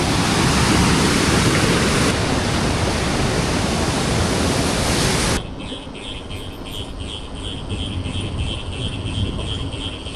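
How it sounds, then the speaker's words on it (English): Loud, steady roar of a river rushing like a waterfall close by in rural Madagascar, broadband and unbroken, easing slightly partway through but continuing throughout. "following this river, which by now is pretty much a waterfall."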